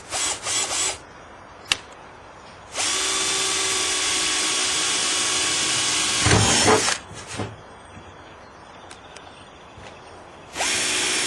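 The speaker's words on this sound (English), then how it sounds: "Next step is to simply drill" A power drill whirs in two long bursts while installing a kayak sail, near and loud, with brief shorter runs and clicks between, no talking.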